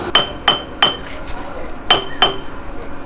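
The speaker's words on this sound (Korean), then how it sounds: "볼트에 조여 있는 그 유격을 판단하기 위해서 망치로 때려서 소리가 맑으면 정상적으로 잘 조여져 있는 거고" A hammer strikes the suspension bolts on the underside of an army tank during a pre-deployment maintenance check, giving five sharp metallic clinks in two uneven groups at close range, with some quieter clatter in between.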